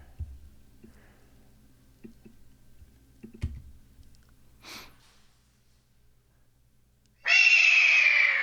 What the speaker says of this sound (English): for that purpose, I dumped in this hawk